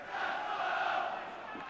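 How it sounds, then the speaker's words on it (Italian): Home supporters roar at a Sassuolo–Livorno football match, a dense steady wall of crowd chanting and cheering that swells slightly and holds throughout the moment. "Il tifo del pubblico di casa"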